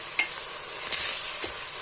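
Bell peppers, including red kapya peppers, fry and get stirred in a pan for a chicken and mushroom sauté, with steady close sizzling and a few scraping stirs of a utensil, no talking.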